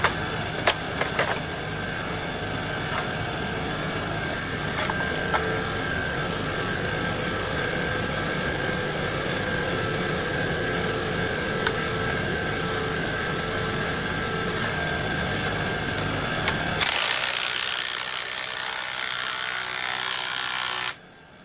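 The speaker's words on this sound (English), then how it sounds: "Probably should have got the little bigger impact for this one maybe" A steady, loud power-tool whir from an impact wrench working a bolt welded into a 1700 lb stator, running continuously for about seventeen seconds with a few sharper clicks, then shifting to a higher hiss before cutting off abruptly.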